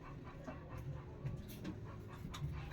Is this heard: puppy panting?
yes